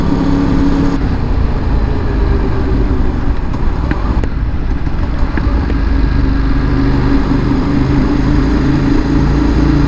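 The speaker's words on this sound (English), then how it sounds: "I adore the noise this bike makes. I know some people don't like the popping and the backfiring, but I do." Ducati Monster 821 motorcycle riding on the road, its engine a loud, continuous close drone with shifting revs and wind rush throughout, faint pops audible beneath.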